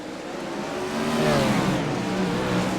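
Race cars on a dirt oval track accelerating down the back straightaway, a loud, steady engine roar that swells and rises in pitch midway as the cars pass close by.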